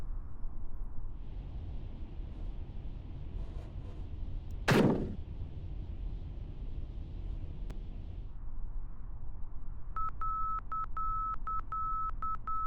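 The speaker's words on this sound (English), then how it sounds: "We should hear a DME soon" A steady high DME navigation beacon tone in Kerbal Space Program beeps in a short repeating pattern near the end, over a constant engine drone with a sharp bang partway through.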